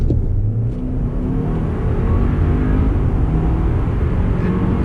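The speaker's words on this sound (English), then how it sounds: "I'm gonna give a quick acceleration run." A 2018 Audi Q5 2.0T SUV engine accelerating steadily, a low continuous rumble building as the vehicle pulls away, with no voices.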